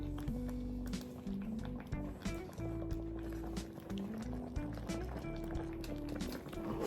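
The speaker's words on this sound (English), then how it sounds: "So this is the soup. It's cooking so well." A pot of okra and eggplant soup with salmon bubbling on the stove, a soft, continuous burble of liquid with small pops and clinks, faint and close.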